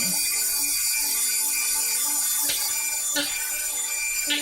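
A handheld Dremel rotary tool buzzes in a steady, high-pitched whine while texturing a cosplay breastplate, close and continuous, with a few short scraping catches as the bit moves across the surface.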